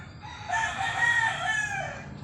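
A rooster crows in a long, drawn-out call, fairly close and clear over quiet background noise.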